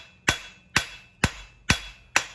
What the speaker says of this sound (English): So a little bit light hammer blow, just at the very end.